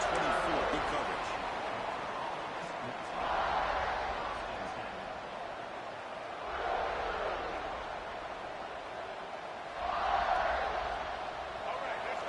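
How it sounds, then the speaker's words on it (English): College football stadium crowd, a broad distant roar that swells in waves every few seconds beneath a commentator's voice. "this crowd is fired up. Listen to this noise here."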